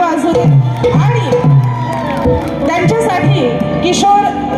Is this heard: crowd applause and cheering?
yes